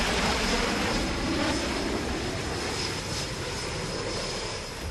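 Military fighter jets and transport aircraft at the Tarang Shakti air exercise in Sulur, Tamil Nadu, give off a steady, loud, broad engine roar with no voices.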